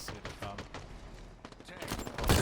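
Gunfire in Halo Infinite multiplayer, bursts of rapid shots crackling through a busy game mix, with a heavier blast building at the end and game voice chatter underneath.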